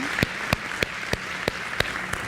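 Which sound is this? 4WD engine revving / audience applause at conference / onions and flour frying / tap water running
audience applause at conference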